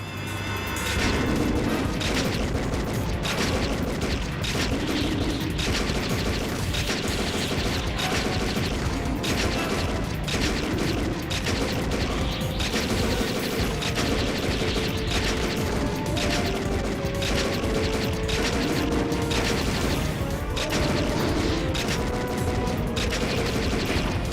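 Rapid arcade gunfire from House of the Dead, a dense, continuous barrage of loud shots and game effects running throughout without a break.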